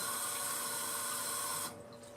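Tap water runs steadily into a sink as a continuous hiss and splash, heard alone and close, then cuts off sharply near the end, leaving a faint room tone.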